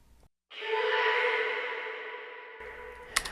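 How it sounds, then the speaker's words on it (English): A long, washy 100% wet reverb throw blooms after a brief pause and slowly fades, sounding dark and muffled with its top end filtered off. "I get this really, really nice reverb throw"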